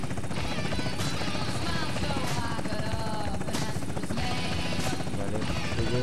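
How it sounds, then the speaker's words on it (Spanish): A helicopter's steady rotor drone from an LSPD police chase in an online roleplay game fills the scene, loud and continuous, with voices talking over it. "tenemos el helicóptero encima"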